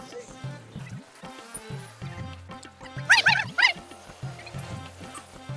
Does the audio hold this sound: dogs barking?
yes